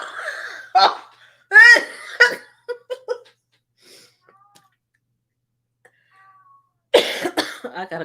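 Several bursts of coughing and wheezy, laugh-like breaths in separate fits, close and loud, with a quiet stretch in between before another burst.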